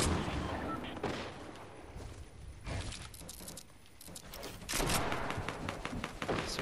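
Gunfire in Fortnite around a player-built castle, with rapid overlapping shots and bursts in close succession under a busy game soundscape, loud and near throughout.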